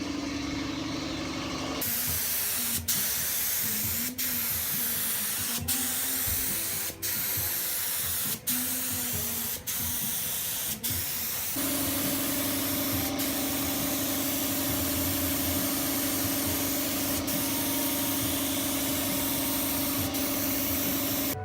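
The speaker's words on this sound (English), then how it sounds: "Let's get some primer on it." Primer sprayed from a spray gun onto a car trunk lid during DIY auto bodywork, a steady close hiss broken by short bursts and pauses early on, then one long continuous pass with no talking.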